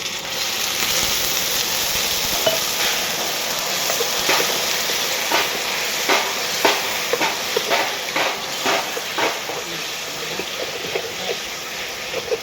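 Mushrooms and noodles stir-fry in a hot pan, a dense continuous sizzle with repeated scraping clicks from the spatula tossing the food back and forth.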